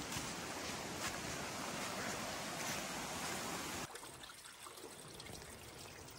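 Water rushes steadily over a stream crossing on a foothills hiking trail, loud and broadband, then abruptly drops to a softer, more distant flow partway through.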